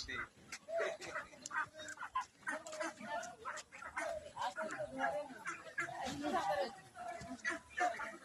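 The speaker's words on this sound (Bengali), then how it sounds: "এই হচ্ছে মুরগি," Chickens cluck and call in a rural yard among ducks, a busy scatter of short bird calls at middling distance, with people talking over them throughout.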